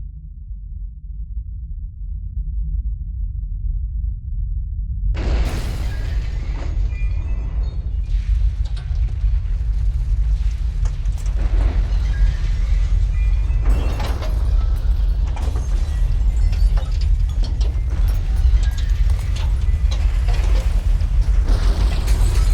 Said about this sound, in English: this was our earthquake, little demonstration on how to create something like an earthquake